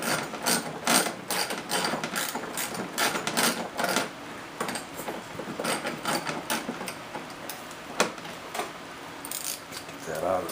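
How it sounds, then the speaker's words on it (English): A ratchet socket wrench clicks rapidly in repeated bursts while turning a ball joint nut on a 2003 Ski-doo MXZ, close and crisp, with brief pauses between strokes. "So we'll just put a wrench on there or a socket, and we'll see. We'll give that a little bit of a spin."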